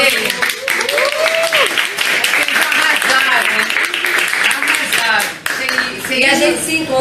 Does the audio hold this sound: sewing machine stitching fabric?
no